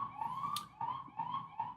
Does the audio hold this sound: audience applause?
no